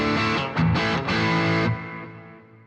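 Stratocaster electric guitar played through an original Boss GT-1000 patch, a few loud distorted strummed chords ringing for under two seconds before decaying into a fading tail, heard alone.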